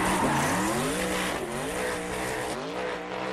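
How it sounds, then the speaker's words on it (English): A rally car blasts through tunnels, its engine roaring loud and close, with rising and falling revs as it downshifts and a tyre squeal as it slides under the handbrake. "So Ken now just bombing through tunnels. Downshifting, grabbing the handbrake."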